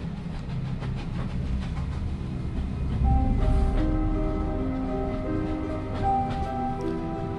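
A train rolls along the rails in the puzzle video game The Room Three, with a steady low rumble and faint rhythmic clatter, a louder swell midway and soft tonal notes over it. No one speaks.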